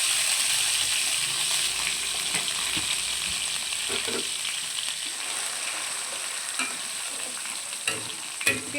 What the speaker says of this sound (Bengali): পেঁয়াজটাকে হালকা লাল লাল করে ভেজে নেব।